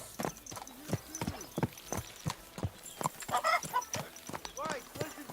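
Horse hooves clip-clop in an irregular rhythm of sharp close knocks, with faint chicken-like clucks and brief voices in the background.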